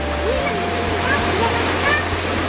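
Busay Falls pours in a steady, loud rush of falling water that fills the whole moment, with faint whistle-like sounds above it.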